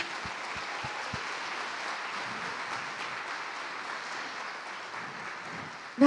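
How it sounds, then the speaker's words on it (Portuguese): A congregation applauds during a Sunday church service, moderate steady clapping that fills the room, with a few low thumps at the start and a sharp sound right at the end. "Pois é, vamos aplaudir"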